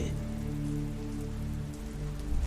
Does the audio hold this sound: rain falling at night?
yes